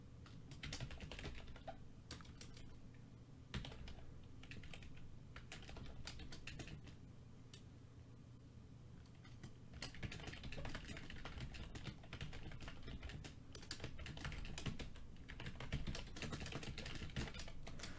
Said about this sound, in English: Listen to me type really loudly because my keyboard is not mechanical per se